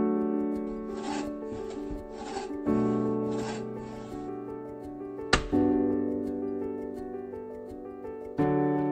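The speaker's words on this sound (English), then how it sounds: "A big part of cabin life is preparing firewood." Firewood is prepared outdoors at a nature reserve cabin: a steady, rhythmic rasping like a saw or file working through wood, with one sharp knock midway and a continuous tonal hum underneath.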